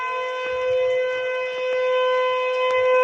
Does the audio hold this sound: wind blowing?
no